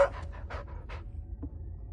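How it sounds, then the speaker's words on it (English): A dog in The First Descendant video game pants in a quick burst of five or six breaths near the start, then goes quiet except for one brief soft puff, all over a low steady game hum. "Hazard is Frena's dog. And Timber is Inez's dog."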